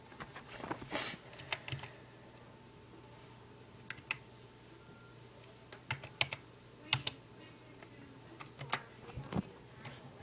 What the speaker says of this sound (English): Please type the secret letters you see here.